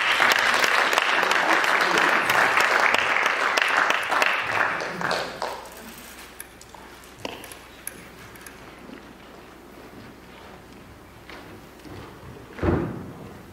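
An audience at a children's book award ceremony breaks into loud, full applause that gradually thins out over several seconds, leaving scattered claps and a few thumps before a last brief burst.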